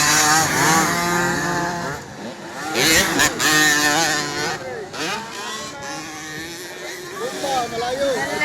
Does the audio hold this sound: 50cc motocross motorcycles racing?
yes